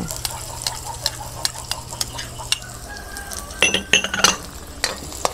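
Onion and garlic sauté in a pan, giving a soft sizzle broken by sharp clinks and scrapes of a utensil stirring, with a brief flurry of louder clatter near the end.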